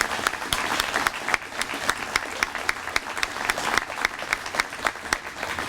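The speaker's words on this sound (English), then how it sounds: "I'd like everyone just to give a round of applause to John" A hall crowd gives a steady round of applause at a dedication to Maurice 'Pip' Walsh, dense clapping sustained throughout with slight swells and no voices above it.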